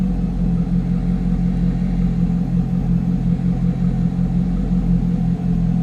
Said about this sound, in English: I mentioned that nice deep throaty exhaust note.